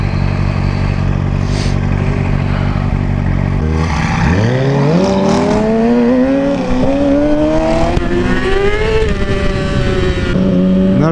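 A Mercedes-AMG GT S (650 hp) engine revs hard and climbs in pitch as it accelerates, loud and close, with a rising roar and gear changes.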